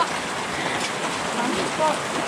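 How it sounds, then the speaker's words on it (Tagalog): Steady heavy rain hisses on a surface, a dense continuous wash of drops with no pauses. "Lumakas na rin ang ulan."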